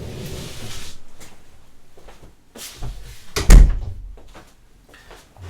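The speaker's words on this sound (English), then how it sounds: "And I have to close my door." An indoor door is pushed shut with a loud, solid thud after some lighter creaks and handling clatter, followed by a few faint knocks as things settle.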